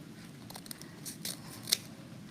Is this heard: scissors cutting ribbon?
yes